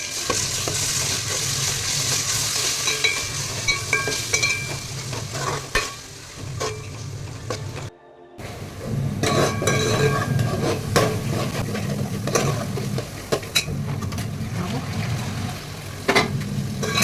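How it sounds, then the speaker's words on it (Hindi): Onion frying in a pan with ginger, garlic and green chili paste, red chili, turmeric and garam masala, giving a steady loud sizzle with repeated stirring scrapes and a brief gap midway. "अदरक लहसुन हरी मिर्ची का पेस्ट और लाल मिर्ची हल्दी गरम मसाला सब एक साथ डाल दिया, उसको भून लेंगे"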